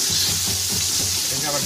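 Tomatoes fry with chicken in a pan, giving a dense, steady close-up sizzle with soft stirring scrapes woven through it.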